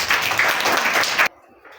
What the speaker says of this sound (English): Clap for Iris.